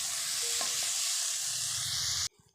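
Banana flower and shrimp with ginger garlic paste sizzle steadily in a pan while being stir-fried, a bright continuous hiss with a couple of faint scrapes, cutting off abruptly near the end.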